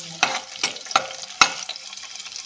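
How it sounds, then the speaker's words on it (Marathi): Chopped onion and curry leaves fry in a pan, a close crackling sizzle punctuated by several sharp stirring scrapes. "आता आपण कढीपत्त्याची पानं टाकून घेऊ आणि आता हे कांदा लाल होईपर्यंत परतून घ्यायचा आहे"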